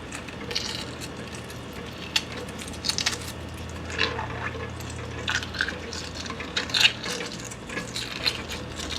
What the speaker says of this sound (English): it helps to roll and then peel it in the water